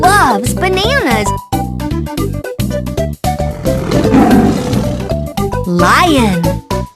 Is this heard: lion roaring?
yes